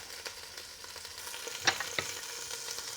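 Hamburger meat frying in a pot over medium heat, a faint, soft sizzle and crackle with a couple of brief stirring clinks, quiet and close.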